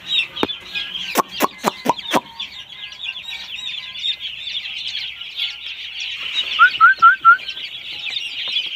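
Broiler chicks cheep constantly in a shrill chorus as they are caught, with several sharp rustles and thumps early on and a few clearer peeps near the end, close and fairly loud.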